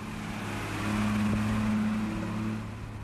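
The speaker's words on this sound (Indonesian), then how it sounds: "ah ini mesinnya kurang lebih suaranya kayak gini nih" A modified Honda Vario scooter engine running, a steady drone that swells slightly louder in the middle, a low continuous rumble with a faint tonal whine and no voices.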